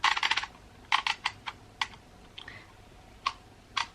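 Bursts of typing on a computer keyboard in a quiet room, a fast flurry of close keystrokes at first, then scattered single and double key clicks with pauses between them.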